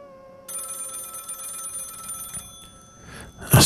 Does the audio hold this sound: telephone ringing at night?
yes